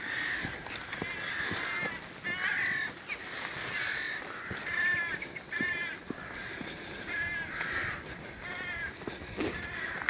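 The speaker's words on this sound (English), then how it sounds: "You can hear the rooks making a fairly ever-present din all along here, one rookery after another." Rooks caw continuously at a rookery beside a footpath along an old railway line, a dense, overlapping din of many harsh calls at varying distances with no talk.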